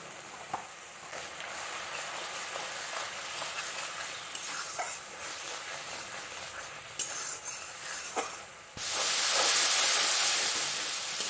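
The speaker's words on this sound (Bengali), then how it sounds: "আমি আগে মশলাটা কষিয়ে নেব" Spices with salt, turmeric and chilli sizzle steadily in hot oil while a utensil scrapes and stirs the pan; a loud burst of hissing rises near the end.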